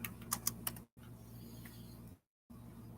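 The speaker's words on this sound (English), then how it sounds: "I'm going to type in" Keys clatter on a computer keyboard in a quick burst of clicks, followed by quieter scattered taps over a steady low hum, with short gaps of silence in between.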